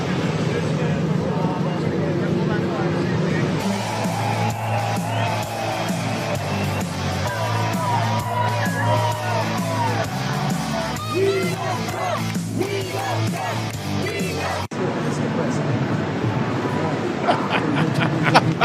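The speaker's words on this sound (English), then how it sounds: "Look at that crowd." A large rally crowd cheers and yells continuously from start to finish, played back as a recording, with a dense roar of voices and scattered whoops.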